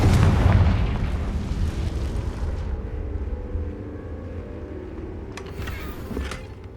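A Confringo spell blast in the Hogwarts Legacy video game, a loud booming explosion at the start that rumbles and fades over several seconds, followed by a brief crackling burst near the end.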